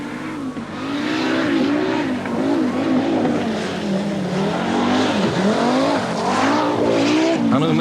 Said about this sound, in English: This is Bjorn Valdegaard in a Toyota Celica, tackling Special Stage 8